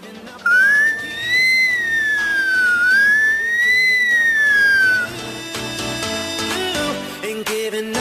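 A 12-year-old boy imitates an ambulance siren with his voice: one loud, sustained wailing whistle that rises and falls in slow sweeps for about four seconds, followed by background music.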